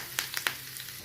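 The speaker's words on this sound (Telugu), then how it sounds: "కొంచెము పోపు మిరపకాయలు వేసిన, కరివేపాకు వేస్తున్నా" Dried red chillies and curry leaves sizzle in hot oil in a small pan, a brief steady crackle with a few sharp pops near the start.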